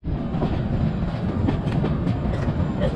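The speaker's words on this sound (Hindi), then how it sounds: "सो गाइस अभी हमने दादर स्टेशन से डिपार्चर ले लिया है और ट्रेन ने अभी एस्केलेट करना चालू कर दिया है" Udyan Express (11301) hauled by an EMD locomotive pulls away from Dadar station, heard as a loud, continuous rumble with rhythmic wheel clatter, close by as if from inside the train.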